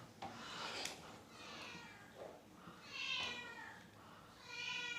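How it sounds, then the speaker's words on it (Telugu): Domestic cat meowing for food, several drawn-out, rising meows close by in a quiet room, separated by short pauses. "క్యాట్ అరుస్తూ ఉంది,"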